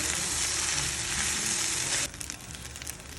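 Sauce hits a hot frying pan and sizzles loudly and steadily up close, then the hiss abruptly drops to a quieter, uneven bubbling crackle.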